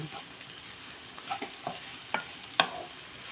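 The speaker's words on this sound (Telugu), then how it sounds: "ఫ్రై రెడీ అయిపోతుంది ఇదిగోండి కొబ్బరి క్యాబేజీ ఫ్రై అన్నమాట" Stir-frying coconut cabbage fry in a pan: a low, steady sizzle with a few distinct scrapes and clinks of the spatula at irregular moments, fairly close and alone with no talk.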